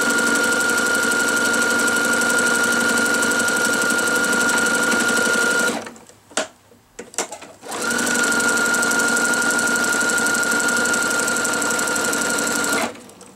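A sewing machine stitches quilt binding, running in a loud, steady mechanical hum with a rapid needle rhythm, pausing briefly with a few clicks and shuffles, then resuming at the same pace before stopping.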